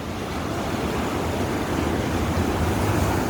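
Ocean waves at Pondicherry beach at sunrise give a steady, full roar of surf, with some wind buffeting and no voices.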